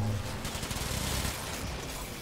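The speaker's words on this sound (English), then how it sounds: "I switched to the other gun I have that shoots really fast" A fast-firing gun in Warframe rattles off a quick burst of shots in a tight, even rhythm, then the firing stops and a dull background wash remains.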